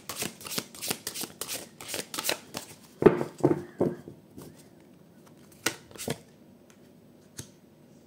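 Oracle cards are shuffled by hand, with a quick run of soft riffling flicks and slaps that slows into scattered taps and shuffles near the end, close and fairly quiet with no talking.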